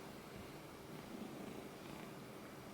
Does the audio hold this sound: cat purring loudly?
yes